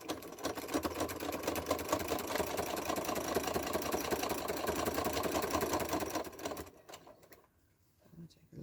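Sewing machine stitching binding onto a quilt, a steady mechanical whir with rapid needle clatter for about six seconds, then stopping abruptly into near silence as the machine pauses with the needle down to pivot.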